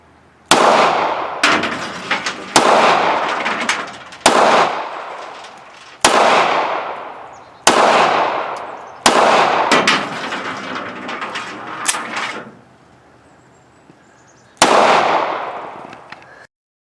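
Sharp gunshots from an Imperial German handgun crack out one after another, about ten loud, close reports at irregular intervals, each with a ringing decay, then a pause before a final shot.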